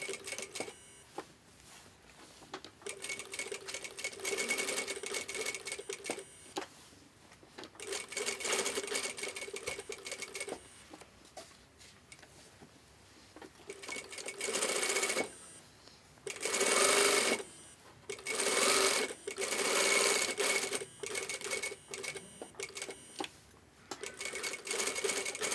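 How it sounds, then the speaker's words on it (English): A sewing machine runs an edge stitch in repeated bursts of steady whirring, loud and close, separated by short pauses and quieter gaps. "Now we are going to make a edge stitch."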